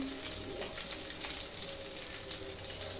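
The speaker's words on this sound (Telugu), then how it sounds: "ఇప్పుడు ఇవన్నీ డీప్ ఫ్రై చేయాలి." Stuffed brinjals deep frying in hot oil for gutti vankaya curry, a continuous dense crackling sizzle with fine bubbling, steady and close throughout, no talking.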